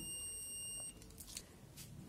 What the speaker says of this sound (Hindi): कंटिन्यूटी मोड में ये बीप करेगा